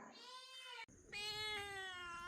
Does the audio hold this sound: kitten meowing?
yes